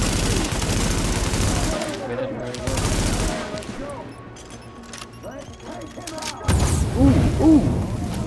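Rapid bursts of gunfire from The Division video game, loud and dense in the opening seconds, easing off, then swelling again near the end alongside a player's voice talking over it.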